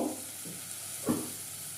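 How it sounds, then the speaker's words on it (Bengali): A spice paste for Katla fish curry sautés with a soft, steady sizzle, and a single stir or scrape stands out briefly partway through. "সেই জন্য ঢেকে ঢেকে মশলাটাকে ভালো করে কষিয়ে নেব"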